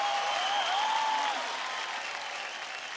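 Studio audience at a televised Indian singing competition breaks into applause, a soft, even wash of clapping under a sustained musical tone that fades slightly toward the end.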